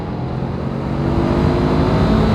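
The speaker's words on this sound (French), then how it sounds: "Quand tu commences à monter dans les tours, ça monte tranquillement, ça monte." A Honda CB500 Hornet motorcycle engine revs up while accelerating, a loud, smooth drone that rises steadily in pitch and volume over a couple of seconds with no talking.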